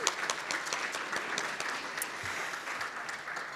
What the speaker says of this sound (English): big applause for all of them